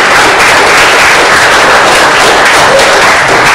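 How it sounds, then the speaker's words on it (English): A room of people at a weekly high school club meeting give a round of applause, dense, loud, continuous clapping close to the microphone with no talking. "let's give him a round of applause"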